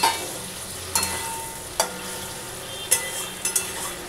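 Katla fish frying in hot oil, a constant hissing sizzle broken by a few sharp spatter pops and light utensil taps, close up and without talk.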